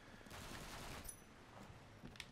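Gunfire in the video game Sunset Overdrive, quiet and distant, a short burst of rapid shots heard faintly in the background.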